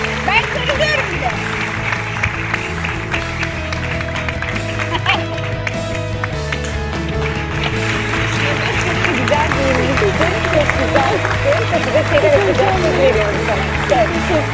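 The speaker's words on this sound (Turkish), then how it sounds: "Bir alkış!" A television talent-show audience applauds, dense continuous clapping and crowd noise over music, with voices talking through it.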